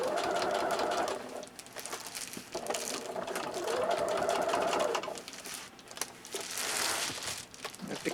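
A sewing machine stitches fabric for RV window covers, running in several close, steady bursts with short pauses between them to adjust the material.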